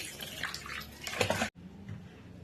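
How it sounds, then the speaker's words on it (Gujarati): Cold water is poured over fresh paneer resting in a cotton cloth inside a perforated bowl. A close, splashy stream runs for about a second and a half, then stops abruptly, leaving faint dripping. "પનીર ઉપર આપણે થોડું ઠંડુ પાણી એડ કરવાનું છે"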